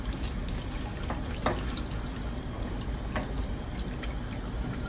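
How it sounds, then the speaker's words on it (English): Cleaned Alfonsino fish are rinsed under running water, a steady close stream broken by a few brief splashes and drips as they are handled. "Rinse them off really well."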